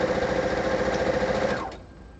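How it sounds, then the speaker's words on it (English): A sewing machine stitching quilt blocks, a steady fast mechanical whirr that holds evenly and then winds down and stops near the end, close and alone. "And now I'm going to sew these. My 21 blocks. I'm going to sew one at a time."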